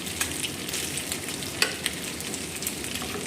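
Chicken pieces sizzle and spit as they fry in the fat rendered from their own skin, a steady crackling hiss with scattered sharp pops and occasional stirring, heard alone with no talk.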